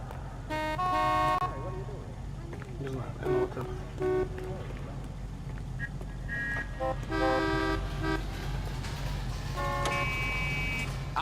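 Street traffic in L.A. Noire: a steady car engine hum beneath repeated horn toots and honks, some short and some held, with voices talking over the background.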